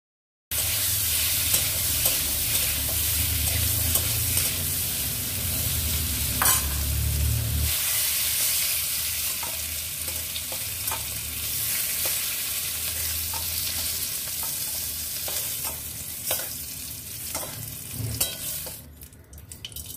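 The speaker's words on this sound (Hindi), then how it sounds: "एरपर आलू और पेঁপে फ्राई करे नेब।" Pre-boiled potatoes and papaya sizzle steadily in hot oil in a pan while being stirred, a loud continuous frying hiss with occasional scrapes of the spatula and no talk.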